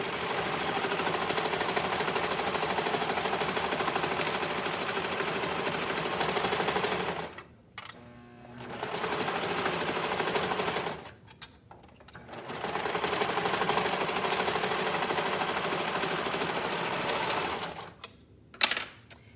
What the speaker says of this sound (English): we will sew the other one, sewing the same curved seam